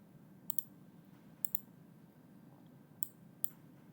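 A computer mouse gives four sharp, quiet clicks in two pairs, each pair a quick double tap, heard close over a faint steady room hum.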